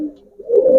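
A pigeon of a yellow-eyed white and black-eyed breed line coos close by, a low murmuring call that fades briefly and then swells louder toward the end, with no other sounds.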